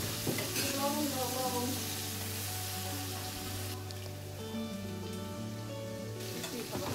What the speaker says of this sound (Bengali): কাঁকড়াগুলোকে এখন একটু লাল লাল করে ভেজে নেব